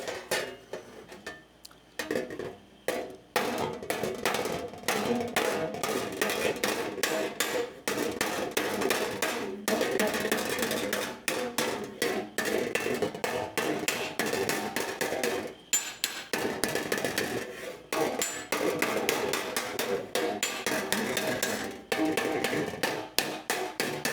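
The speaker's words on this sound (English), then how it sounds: "We'll do that with a hammer after." Steel patch panel for a 1965 Thunderbird being hammered in dense, rapid bursts of sharp metallic blows with brief pauses between runs, close and loud, with no talking.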